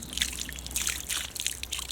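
Wine trickles from a bottle into a glass, a close, soft splashing pour that continues steadily for a couple of seconds.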